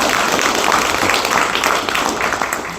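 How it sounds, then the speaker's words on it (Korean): An audience at a book concert applauds in a dense, continuous burst of many hands clapping. It is loud and sustained for the whole moment. "박수를 좀 쳐주시면 좋겠습니다"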